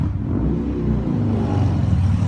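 Steady road traffic rumbles close by, with car engines droning and whirring through a continuous low roar and no clear breaks.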